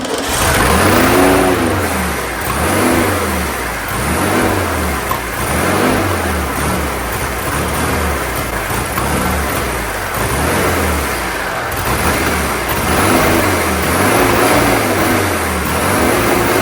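A 1972 VW Super Beetle engine turns over loudly in a steady rhythmic cycle, close by, with a rising and falling motor pulse throughout and no voices.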